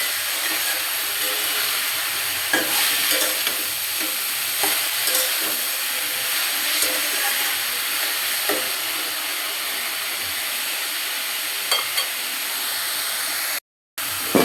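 A fish head and cabbage ghonto with turmeric and green chillies sizzles steadily in a pan, with occasional knocks and scrapes as a spatula stirs it. There is a brief gap near the end.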